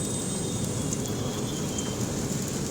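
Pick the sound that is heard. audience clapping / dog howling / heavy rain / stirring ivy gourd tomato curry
heavy rain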